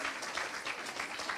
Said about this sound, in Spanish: Aplauden al intendente.